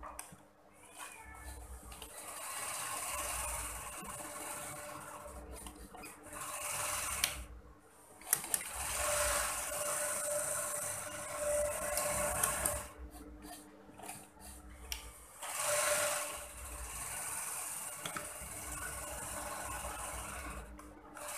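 A sewing machine lock-stitches the lower seam of a back-pleated pencil skirt, running in steady whirring stretches broken by short pauses, close and moderately loud.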